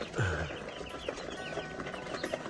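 Chickens cluck and fuss close by around their feed, a steady soft chorus of small calls and scratching with no talk.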